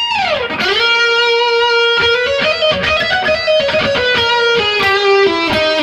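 Distorted electric guitar plays a solo: a falling bend opens it, then a sustained note and a quick run of picked notes climbing and settling, loud and close, no voices.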